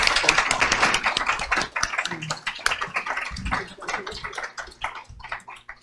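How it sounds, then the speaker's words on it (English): An audience at a League of Women Voters school committee candidate forum claps for the candidates, a close, dense patter of applause that gradually thins out. "And I think a round of applause for the candidates."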